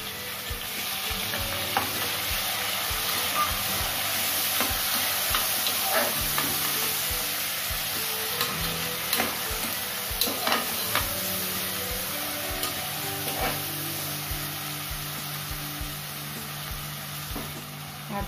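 Tomatoes frying with browned onions and carrot in a pan for paneer masala curry: a steady close sizzle with intermittent scraping stirs and spoon knocks, and a faint background hum throughout.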